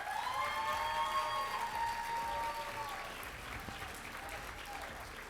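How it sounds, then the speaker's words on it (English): An audience at a 2024 Healthcare Heroes awards event claps for an honoree, steady applause across the clip with a tonal, siren-like whine sweeping over it. "A round of applause for our final honoree in this category, John Beckstrand, CEO for Master Control."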